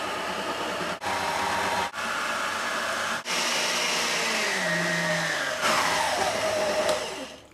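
Electric hand mixer beating egg whites with a few drops of lemon for Swiss meringue, a steady loud whirring motor with brief dips as it shifts speed, running alone without talk.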